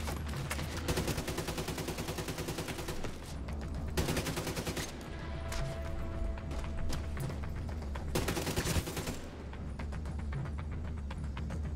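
Heavy gunfire in The Division 2 open beta, dense rapid bursts of automatic weapons fire in several long volleys separated by brief lulls, loud and close throughout with scattered shots between the bursts.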